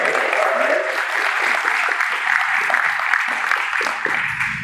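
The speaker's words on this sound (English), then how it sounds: "she deserves a round of applause" An audience at a lecture on the 1940 invasion of France gives a round of applause, a steady, moderately loud patter of many hands that continues evenly without a break.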